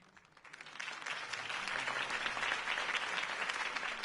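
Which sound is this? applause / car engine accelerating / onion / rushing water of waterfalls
applause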